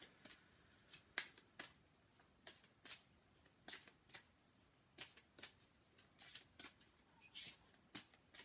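A deck of tarot cards being shuffled by hand before one card is drawn: a run of crisp, papery riffles and flicks in irregular bursts, close and fairly quiet, with no talking over them.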